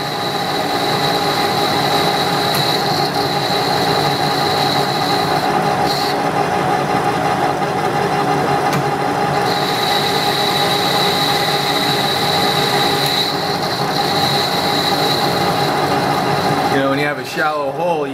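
A Wilton Baby Bullet metal lathe cuts under power feed with a steady, close mechanical hum and a thin high whine. The drone holds evenly for the whole stretch, with a brief clattery shift near the end.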